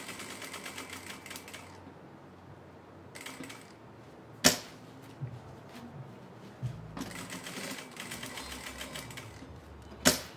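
Sewing machine stitching through a quilted placemat, a steady mechanical run in bursts, stopping and restarting with a few sharp clicks and knocks between passes, fairly quiet and with no talking.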